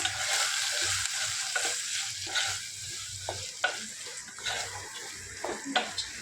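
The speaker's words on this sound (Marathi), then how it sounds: "जरा मसाला चांगला भाजला या" Masala with turmeric and coriander powder frying in a pan, a sizzle under repeated stirring scrapes and knocks of a spoon, fairly close.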